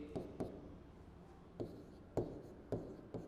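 Chalk writing on a blackboard during a physical chemistry lesson: a few short scratchy strokes in small bursts, separated by quiet pauses, fairly faint and with no talk over it.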